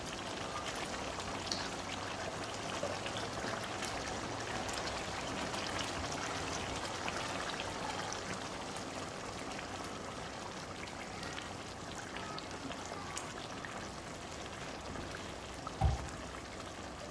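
Cream poured into simmering chicken karahi, a steady soft liquid pour with gentle bubbling over about seventeen seconds, with a brief sharp clink near the end.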